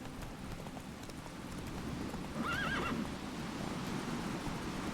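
Roach, a horse in a fantasy video game, gives a clear rising whinny midway through, over steady clip-clop of hooves and a dense wash of ambient game noise.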